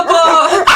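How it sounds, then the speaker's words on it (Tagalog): A dog gives a single loud, close, whiny bark or yip that lasts under a second. "Nakakatakot naman yung mga tahol na aso."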